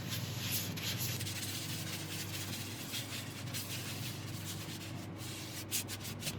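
Abrasive paste being worked by hand into a freshly turned piece of wood, giving a steady, close, continuous scratchy rubbing with a few brief strokes toward the end, and no voices.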